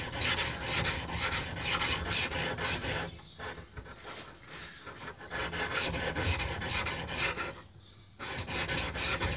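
A steel chisel is pushed back and forth across a sharpening stone in a steady rasping rhythm of close, even strokes, pausing briefly twice before carrying on.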